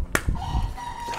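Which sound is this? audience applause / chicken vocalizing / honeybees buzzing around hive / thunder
chicken vocalizing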